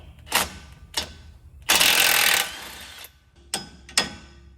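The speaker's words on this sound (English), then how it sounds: "So for starters, 18 mil, let's take the nut off." Ratchet wrench working on the 18 mm nut of a seized tie rod ball joint on a side-by-side steering setup, heard as several short close clicks and one longer, harsher grinding stretch of ratcheting, with no talking.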